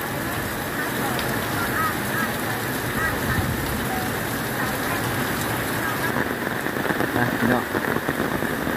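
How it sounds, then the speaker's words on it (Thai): Steady rain pours on a rural scene, a dense continuous hiss of drops hitting the ground and surfaces throughout, close and even in loudness, with faint voices mixed in. "ฝนตก"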